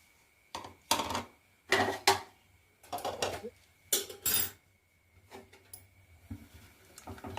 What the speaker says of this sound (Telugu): ఇప్పుడు గరిటెతో ఈ రసం పౌడర్ మొత్తం రసంలో మిక్స్ అయ్యేలా కలుపుకోవాలండి